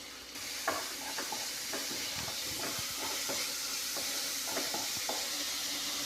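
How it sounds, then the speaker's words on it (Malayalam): Sliced onions, green chillies and a little salt sizzle steadily in hot coconut oil. A spoon stirs and scrapes the pan in irregular taps over the constant frying hiss. "വെളിച്ചെണ്ണ ചൂടായി വന്നിട്ടുണ്ട് അതിനോട് നമുക്ക് സവോള ഇട്ട് കൊടുക്കാം പച്ചമുളക് ലേശം ഉപ്പൂടെ ഇട്ട് നന്നായിട്ട് വഴറ്റി കൊടുക്കാം"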